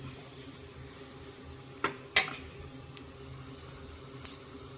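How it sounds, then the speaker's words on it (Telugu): Kitchen chimney exhaust hood running over a pan of cooking spinach paneer curry, a steady broadband whoosh throughout with a few sharp clinks and taps from the stove. "చిమ్నీ నడుస్తుంది చూడండి సౌండ్ వస్తుంది"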